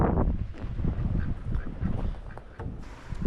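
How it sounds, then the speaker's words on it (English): Two male and two female mallard ducks quack and honk in short, scattered calls over a rough, rustling background, close by and with no talk. "The mallard ducks."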